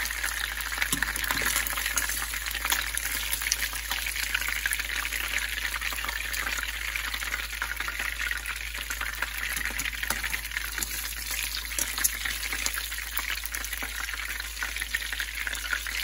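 Tilapia fish cooking in hot oil for a fish soup, giving a steady, dense sizzle that holds at an even level for the whole stretch, with no talking.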